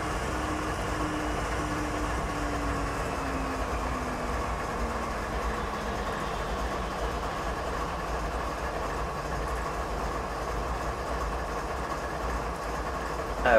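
Freight train rolling through a Canadian mountain pass loop in Train Simulator 2015, a steady low rumble of engine and wagons with a faint tone slowly falling in pitch, continuous and without talk.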